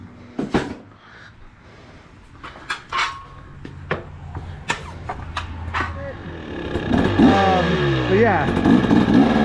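KTM 300XC two-stroke dirt bike starting up and revving on a road, with crisp rising and falling engine sweeps after a few knocks and clunks, and voices talking over it nearby.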